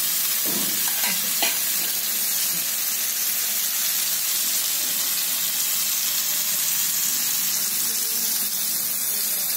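Bitter gourd frying in a little oil on low gas: a constant soft sizzle with a couple of brief stirring scrapes near the start, steady and close, no talk.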